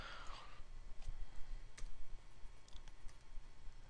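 Cursor keys on a computer keyboard are pressed one at a time in Photoshop, giving sparse, light individual clicks over a quiet room hum.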